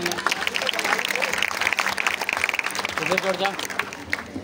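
Audience applause at a Hindi poetry recital (kavi sammelan), dense clapping filling the room, with voices and murmured talk mixed in and a speaking voice emerging toward the end.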